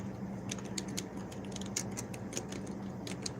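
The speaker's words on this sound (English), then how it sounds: "if you hear typing, I am typing up today's closing remarks" Someone types on a computer keyboard indoors, producing quiet, irregular clicking keystrokes in quick bursts over a low background hum, faint and with no talking.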